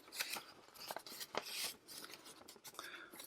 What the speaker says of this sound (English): To do that, we'll just fold this tab down, fold it in half.